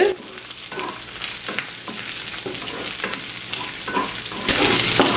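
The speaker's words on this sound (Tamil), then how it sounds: "இப்போ ஒரு ஒன்றரை நிமிஷமாக இதுலேருந்து வதங்கி கொண்டிருக்கு" Shrimp and drumstick (curry) leaves stir-frying in a pan, a steady close sizzle with repeated stirring scrapes, building louder toward the end, no talk.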